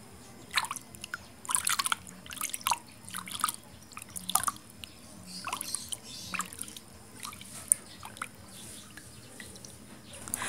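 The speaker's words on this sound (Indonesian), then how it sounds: "Jika pegal linunya ada di siku, kita bisa rendam siku kita seperti ini." Water drips and splashes faintly in irregular small bursts as an elbow soaks in a basin of herbal remedy, close and quiet with no talk.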